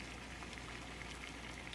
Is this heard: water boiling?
yes